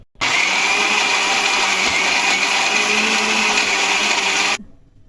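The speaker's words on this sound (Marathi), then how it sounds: "तर हे वाटण आपण मिक्सरला लावून घेऊया" A kitchen mixer grinder runs steadily at high speed, grinding soaked chillies, coriander seeds and Malvani masala into a paste, loud and continuous for over four seconds before cutting off abruptly.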